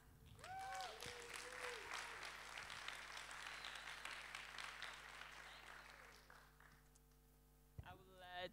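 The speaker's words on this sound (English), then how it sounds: "Please, let's clap for all of us." Audience applause fills a hackathon pitch event in Grodno, Belarus, a long dense wash of clapping that runs for several seconds over a steady mains hum, fading out before a voice briefly speaks at the end.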